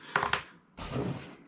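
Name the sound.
plastic parts rattling inside a box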